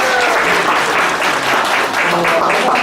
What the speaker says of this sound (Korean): 박수 한번 주시면